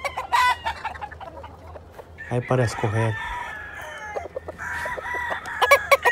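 Roosters at a game farm holding around 2,000 birds, crowing and clucking close by in overlapping bursts, with a loud crow near the middle and more calls toward the end, under brief speech.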